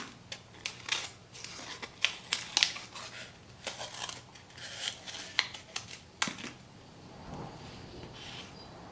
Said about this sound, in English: So cut your circle out.